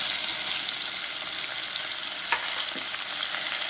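Chopped tomatoes and asafetida hit hot oil and sizzle loudly and steadily, with a couple of brief spatters partway through and no speech.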